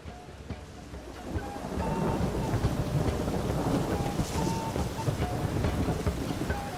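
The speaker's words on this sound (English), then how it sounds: "Rain again. Damn mages." Steady rain with a low rumble of thunder in The Witcher 3, a continuous wash of hiss that swells slightly after the first second and stays loud, with no talking.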